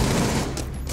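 Rapid, dense gunfire from a video game rips continuously as shots punch through a wall, loud and sustained without pause.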